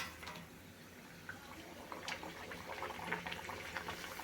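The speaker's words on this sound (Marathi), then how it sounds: "मी आता इथे थोड्याशा पुऱ्या तळून घेते" Small puris frying in hot oil for a traditional aamras meal, giving a steady bubbling sizzle with crackly bursts throughout, moderately quiet and with no talking.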